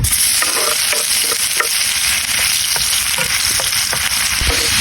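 Garlic stirs and fries in a hot pan with oil, a steady loud sizzle broken by repeated scraping strokes of a spatula, continuous throughout with no voices, while a corned beef pastel is being cooked.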